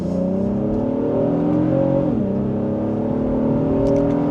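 A 2026 Honda Passport in sport mode pulls hard in second gear, its engine drone rising steadily and loud from inside the cabin, dipping briefly mid-pull before climbing again.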